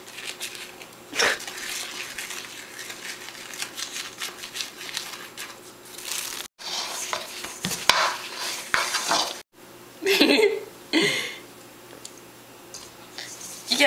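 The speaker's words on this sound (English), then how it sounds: "You gotta get all this flour mixed together." Sifted flour is stirred into kiwifruit tartlet dough by hand, a soft scraping and squishing texture that comes in uneven bursts with brief pauses, fairly close and moderately loud.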